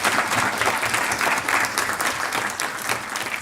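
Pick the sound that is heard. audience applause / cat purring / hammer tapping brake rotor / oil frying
audience applause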